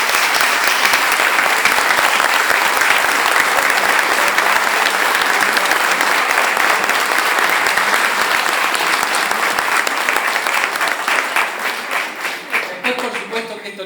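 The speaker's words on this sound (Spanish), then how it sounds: "Un gran aplauso para él." Loud, close applause from a tribute ceremony audience marking a closing event, with thick sustained clapping that thins and fades over the last couple of seconds as the claps scatter.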